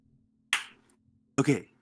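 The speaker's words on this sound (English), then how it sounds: "I'm gonna do the clap first." Two sharp hand claps, loud and close, separated by a short pause, alone in an otherwise quiet room.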